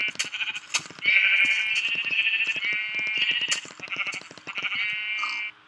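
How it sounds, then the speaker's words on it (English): Minecraft sheep bleat over and over in a video game, several wavering, nasal cries following one another closely and loudly, with sharp clicky hits scattered between them and no talk. "Okay, first off, let's kill some sheep."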